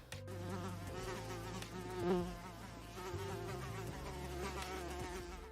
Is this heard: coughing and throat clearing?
no